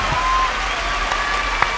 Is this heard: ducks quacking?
no